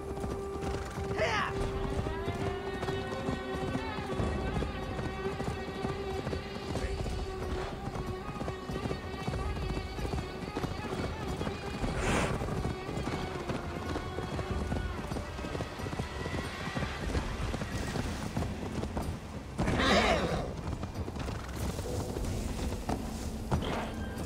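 Horse hooves clip-clop in a steady rhythm while riding in Assassin's Creed Valhalla, loud and continuous over game music and mechanical clatter, with a brief whinny near the end.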